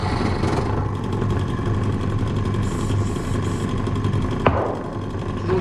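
A drill press running at slow speed while boring a Solex carburettor, a steady loud motor hum and whir throughout with a brief sharp click near the end, and no talking.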